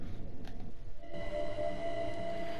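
Class 377/4 electric train rolling downhill toward London Victoria with no throttle applied, a steady cab rumble and rail noise throughout, with a thin whine rising faintly partway through.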